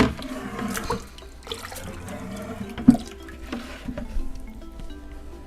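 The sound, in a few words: water poured into a decorative orchid pot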